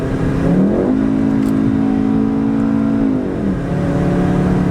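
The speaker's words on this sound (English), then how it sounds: "it'll definitely let you rev it out" A VW Golf R in sport mode revs up hard and holds a high, steady engine note before dropping back. The loud, close whine plays alone with no talking.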